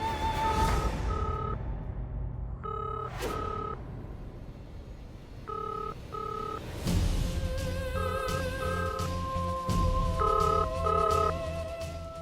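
An electronic phone ring repeats in short beeping bursts against a steady rumbling background, fairly loud and continuing for several seconds.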